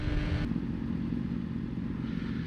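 A 2017 Yamaha R6 sport bike engine running while riding, a loud steady mid-pitched drone with a sharp change near the start, continuous and close throughout.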